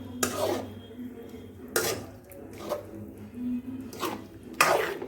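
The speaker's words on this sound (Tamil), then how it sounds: "நல்லா மிக்ஸ் பண்ணிக்கலாம்." A spoon scrapes and clinks against a pan in several separate strokes as thick bitter gourd gravy is stirred, close by and moderately loud.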